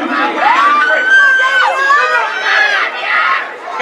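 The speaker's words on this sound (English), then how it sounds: "Y'all not cheering loud enough." A crowd cheers and shouts at a boys' 400 m race at a track meet, a dense, steady roar of many voices with rising yells, close and loud throughout.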